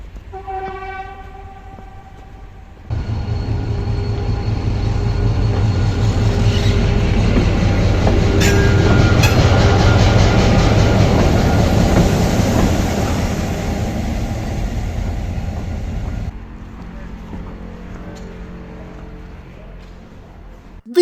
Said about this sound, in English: So here I am at Pristina main railway station.